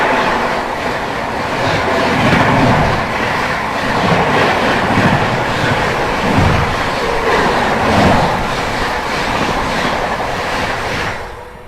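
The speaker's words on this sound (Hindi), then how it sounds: "सामने से आती हुई न्यू दिल्ली राजेंद्र नगर टर्मिनल पटना तेजस राजधानी एक्सप्रेस" Tejas Rajdhani Express on the New Delhi–Rajendra Nagar Terminal Patna route rumbles past close by, a loud steady roar with rhythmic clickety-clack of wheels over rail joints for the whole stretch, fading slightly at the end.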